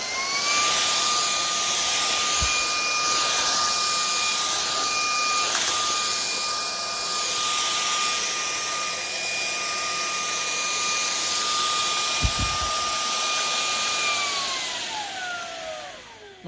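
A Jigoo C300 cordless stick vacuum cleaner running in max mode: a loud, steady motor whine with a high electric tone that holds, then winds down near the end, with a few bumps of handling.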